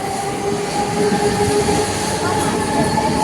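A train rolls along the rails with a steady rumble, a faint high wheel squeal and light clickety-clack, heard continuously and fairly loud from on board.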